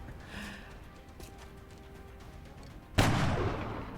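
A sniper fires at a destroyer in XCOM: Long War: one sharp, loud gunshot bursts in near the end after quieter game ambience and a few soft clicks, then rings out.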